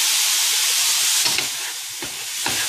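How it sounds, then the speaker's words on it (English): White wine hitting a hot paella pan of toasted rice, a loud hissing sizzle with a few spoon scrapes and knocks that settles slightly toward the end. "Once the rice grains have toasted sufficiently, add your white wine"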